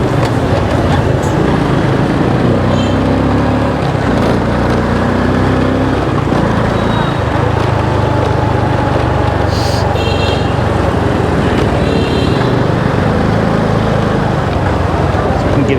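Dense peak-hour road traffic in Hanoi heard from a moving motorbike, a constant loud roar of engines, buses and cars close by with occasional horn toots, and someone talking over it.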